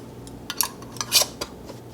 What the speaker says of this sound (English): We're going to center our lids and then add our bands to fingertip tight.